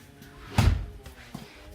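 An interior house door leading to the garage opens or closes with one solid thump, followed by a softer knock.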